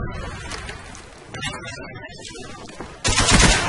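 Rapid automatic gunfire from a player's weapon in the online shooter Call of Duty Black Ops, clattering bursts that surge louder near the end, with a voice talking over the game.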